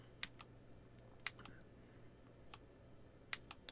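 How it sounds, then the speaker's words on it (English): Trigger clicks from a Windows Mixed Reality motion controller: a few sharp, quiet clicks spaced irregularly over a soft room hum. "So I'm just holding down the trigger, clicking the trigger on some of these."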